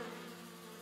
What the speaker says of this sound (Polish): Za dużo pszczół.